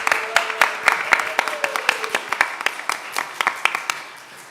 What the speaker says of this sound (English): Can we just get a round of applause for our student moderators and timekeepers tonight?